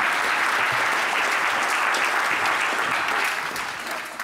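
Sustained, dense applause from a large audience at a comedic science awards ceremony, loud and steady throughout, tapering slightly near the end.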